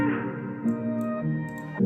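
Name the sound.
reverb effect on a beat melody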